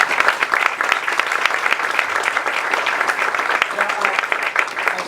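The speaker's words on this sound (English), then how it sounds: "So let's give them a warm applause." Warm applause from guests at a political reception, a steady dense patter of many hands clapping for about five seconds with a few voices mixed in.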